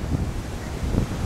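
Ocean waves wash up on a Hawaii beach in two soft surges, heard close over steady wind buffeting the microphone, with no talking.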